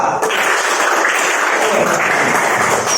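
Classroom applause for a student group after a correct answer, a steady wash of clapping filling the room at close range and holding at a constant level from just after the start to the end.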